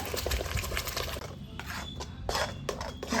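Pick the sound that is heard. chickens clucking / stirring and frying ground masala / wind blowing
stirring and frying ground masala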